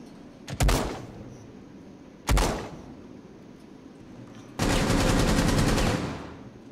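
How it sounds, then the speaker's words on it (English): Gunfire in the Rainbow Six Siege video game during a plane team deathmatch: two sharp separate gunshot bursts about two seconds apart, then a long sustained stream of rapid automatic fire lasting around a second and a half, fairly close. "They're shooting at me"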